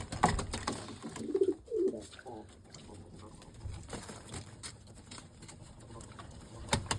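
Pigeons coo softly nearby, a couple of low rounded coos early on, with faint patter and rustling in a quiet setting.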